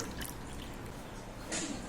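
Cooked gongura leaves strained through a filter, water trickling and dripping in a steady stream with a brief louder splash near the end, no talking.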